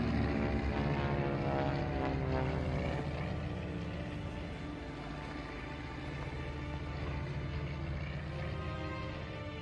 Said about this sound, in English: a plane flew over us